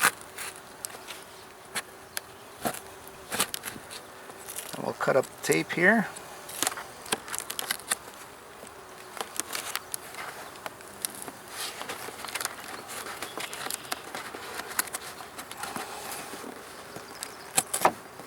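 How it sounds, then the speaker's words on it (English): Honeybees buzzing loudly and steadily as a package box is opened with a hive tool and tape is cut, with scraping and tapping over the hum and someone speaking briefly. "Don't hurt those bees."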